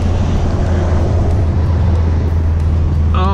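A Dodge Challenger SRT cruises steadily on the road, with a constant low engine drone and broad road and wind roar heard from inside the car, no talk.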